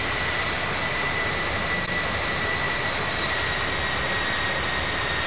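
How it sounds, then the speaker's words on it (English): Jet engines of an airliner in the Infinite Flight simulator give a steady, loud, unbroken roar with a faint high whine, heard alone without talk. "is the engine volume too loud for you?"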